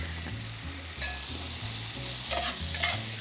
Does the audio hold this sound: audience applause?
no